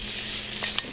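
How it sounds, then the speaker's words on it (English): Spinach sautéing with garlic and Indian spices in a pan, a dense, steady close sizzle with a brief stirring clink near the end, loud and without voices. "So again, sauteed spinach, but with Indian spices."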